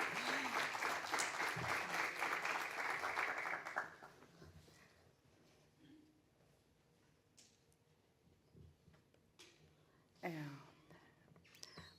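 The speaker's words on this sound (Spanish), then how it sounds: "así que aplaudimos para darle calor" Audience clapping welcomes a conference speaker to the stage, dense and loud for about four seconds before fading out, followed by quiet room sounds and a few faint voices.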